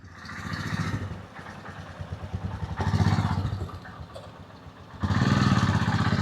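Motorcycles on a Delhi to Manali and Leh road trip roll up one after another, engines idling and revving at close range in bursts that swell and fade, with no talking.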